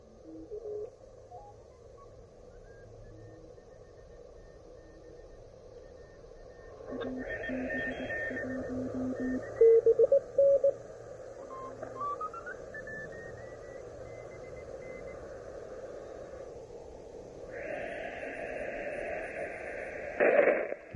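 Elecraft KX1 radio tuned to the 20 meter band near 14063, producing soft hiss and hum with steady tones and tuning whistles that shift pitch, plus short louder bursts, fairly quiet throughout.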